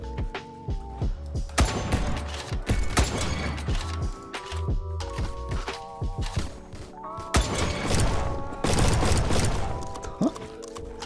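Rapid bursts of gunfire in a Roblox first-person shooter crack repeatedly over a busy, clattering mix of impacts and effects, loud and nearly continuous throughout.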